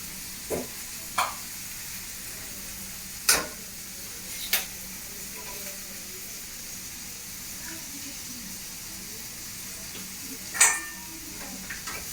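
Two eggs are cracked and poured into a frying pan and stirred, giving a constant soft sizzle punctuated by several sharp clicks and taps of a utensil against the pan at irregular intervals.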